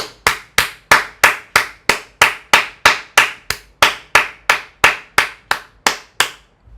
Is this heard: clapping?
yes